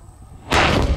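An O3200 model rocket motor fails catastrophically at takeoff in a loud, sudden explosion that cuts off a quiet lead-in halfway through and stays as a sustained broadband roar.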